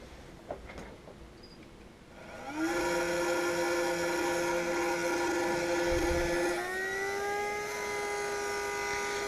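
Scaleauto slot car tire truer spinning up after a quiet start, its loud fan settling into a steady, sustained whine that shifts pitch partway through, running alone with no talk.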